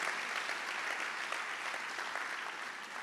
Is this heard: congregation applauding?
yes